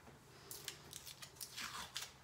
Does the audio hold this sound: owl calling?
no